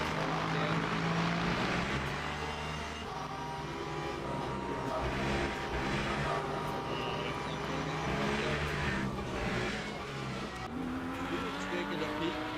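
Onboard GT3 race car in Le Mans Ultimate at Bahrain International, its engine droning steadily throughout with shifting pitch as it brakes late, tires faintly squealing, while a commentator talks over it continuously.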